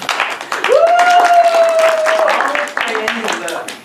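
An audience bursts into applause after a stage show, loud, close clapping that swells quickly and holds for a few seconds, with a high whistle rising above it and voices mixed in.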